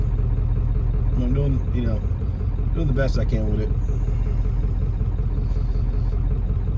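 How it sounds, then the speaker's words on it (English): A diesel OBS truck engine running on black diesel gives a steady low rumble from inside the cab while driving, with someone talking over it. "the motors seem to run a little smoother on the black diesel"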